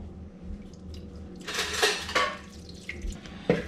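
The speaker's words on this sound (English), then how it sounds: "then you put like this amount of water in the bottom without hitting that" Water poured into the bottom of a pot, a short splashing burst in the middle with faint metallic clinks, quiet and close.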